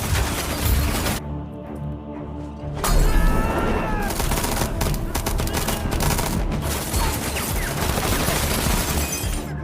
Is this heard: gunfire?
yes